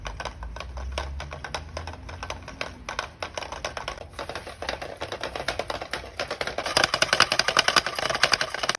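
Braided fishing line winds onto a brand new reel through a damp cloth, making a fast, steady clicking and ticking that grows busier and louder toward the end, with a low hum underneath.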